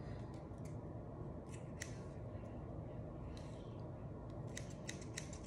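Dull scissors snip at a wig repeatedly in short, uneven bursts of crisp metallic cuts, close up over a low, steady background rumble.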